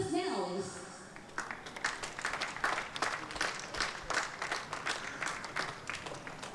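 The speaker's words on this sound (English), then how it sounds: "A big round of applause, please." A crowd claps steadily for Eduardo Mortara's second place at a trophy ceremony after the Sepang International Circuit race, sustained applause rising after someone speaks over a sound system.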